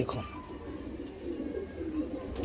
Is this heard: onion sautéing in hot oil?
no